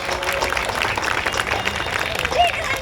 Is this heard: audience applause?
yes